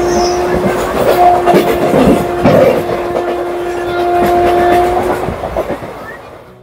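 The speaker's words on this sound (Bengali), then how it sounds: "আমাদের ট্রেন কিন্তু এখন ঢুকলো বোলপুর শান্তিনিকেতন স্টেশনে" The Maa Tara Express passenger train running into Bolpur Shantiniketan station, loud steady rumble with rhythmic clickety-clack of wheels over rail joints and a sustained tonal hum.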